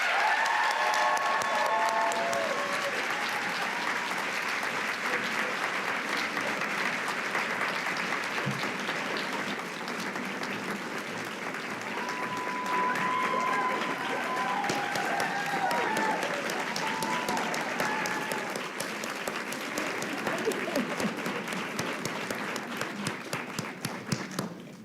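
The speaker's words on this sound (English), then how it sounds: "Please give our newest Army nurse officer a round of applause." Long, sustained applause from a crowd at a university nursing pinning ceremony, dense clapping at an even level throughout, with scattered voices and a brief cheer early on, thinning slightly toward the end.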